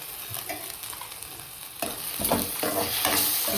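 Ginger and garlic frying in a pan with capsicum and puree for pav bhaji, a steady close sizzle with a few scraping stirs that grow louder toward the end.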